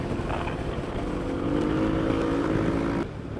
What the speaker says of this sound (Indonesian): lu dinginin mesin, gua manasin mesin ini